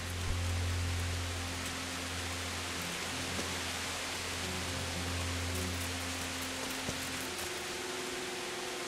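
Rain falling in the medieval game Kingdom Come Deliverance, a steady, even hiss that runs throughout over a low ambient hum, with no talking.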